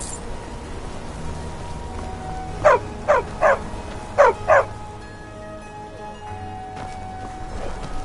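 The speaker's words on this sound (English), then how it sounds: "I like the loyalty of a dog, not as fickle as a wolf." A dog in the game Skyrim barks five times in two quick clusters, three then two, moderately loud over a steady background wash that sounds like rain, with faint tonal game ambience.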